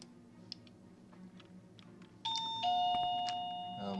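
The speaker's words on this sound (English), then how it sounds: "Apologies for more doorbell." A doorbell rings indoors during a Morrowind gaming session, two clear chime tones sounding in sequence and sustaining over a quiet room hum, fairly close and distinct.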